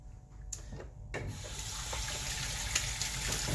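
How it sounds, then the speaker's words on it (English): A knife rinsed under a running kitchen tap while cleaning squid, a steady close hiss of flowing water with a few brief splashes and clatters near the start. "And I'll just fucking rinse my knife a little bit"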